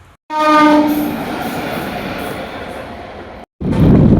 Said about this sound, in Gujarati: એ તો ખાલી એન્જિન આવીને વી ગયું